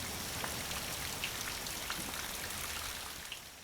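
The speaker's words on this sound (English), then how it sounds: "The wet season arrives at the beginning of summer, often with fierce thunderstorms and torrential rains." Heavy wet-season downpour, a dense, even hiss of raindrops pattering on surfaces with scattered sharper drips, steady throughout and fading slightly at the end.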